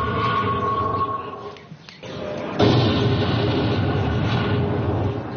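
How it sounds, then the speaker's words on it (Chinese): A recorded explosion is played through a loudspeaker as a scare device beside caged birds. It is a loud, sustained rumbling roar that dips briefly, then surges again, thin and band-limited like speaker playback, with no speech. "随着播放爆炸声次数的增多"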